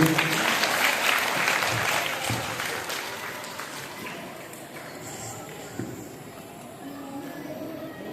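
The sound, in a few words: applause for a quiz prize winner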